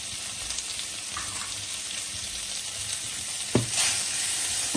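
Salted, squeezed bitter gourd sizzling steadily in a hot pan over medium heat, a constant bright hiss with a brief clatter of stirring near the end.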